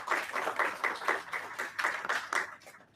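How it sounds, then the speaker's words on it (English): A small audience at a React Kolkata tech meetup claps in a fairly even rhythm, moderately loud and close, tapering off toward the end with no talk over it. "big round of applause for them"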